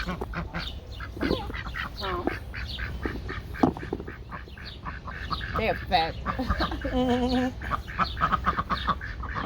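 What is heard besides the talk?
ducks quacking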